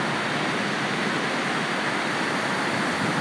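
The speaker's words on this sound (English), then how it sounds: "That water is running over that dam a couple of feet or so higher than the actual top of the dam" Heavy water pouring over the top of a dam in full flood, a dense, loud and unbroken roar with no voices.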